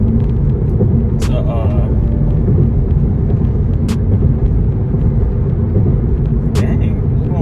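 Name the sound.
car driving through a straight tunnel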